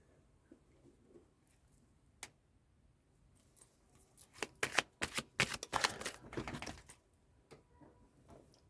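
Tarot cards shuffled by hand in a quiet room, starting as faint sparse flicks and building to a dense, loud riffling burst in the middle before trailing off to soft scattered taps.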